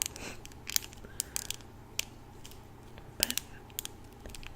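A brush of unknown make and type handled close up, giving soft scratchy bristle rustles with scattered crisp clicks and taps against a quiet background.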